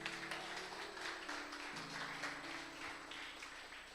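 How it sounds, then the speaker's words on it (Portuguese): A church congregation applauds together in a steady, dense wash of clapping that continues for several seconds without pause. "Você pode aplaudir o nome do Senhor Jesus?"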